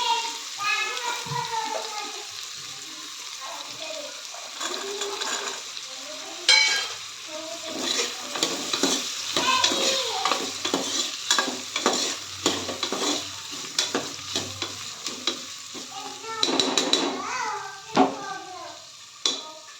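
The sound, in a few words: potatoes and peas sautéing in a pan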